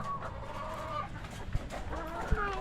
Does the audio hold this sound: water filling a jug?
no